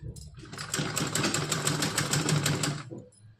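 A sewing machine stitches a straight seam on a small frock for a Laddu Gopal figure, running in one steady, close, rapid mechanical burst of about two seconds before slowing to a stop.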